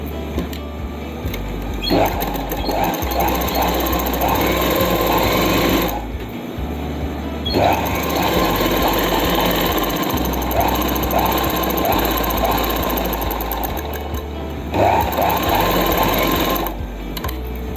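A sewing machine runs a seam on a palazzo pant in long, steady bursts of rapid mechanical clatter, stopping briefly twice before starting again, close and loud.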